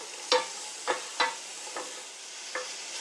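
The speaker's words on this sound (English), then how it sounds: "we just saute those onions up a little bit in the olive oil" Onions sauté in olive oil in a pan, a soft steady sizzle broken by five sharp stirring scrapes spaced through the clip, with no talking.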